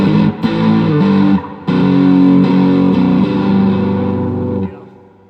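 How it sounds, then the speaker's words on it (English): A heavily distorted electric guitar, played through a Rat-style distortion pedal, rings out loud chords that shift a few times before fading away, with no voices. "this side is more like a rat pedal, like super distortion"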